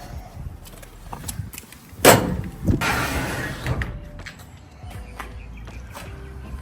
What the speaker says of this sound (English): Get this roller door open.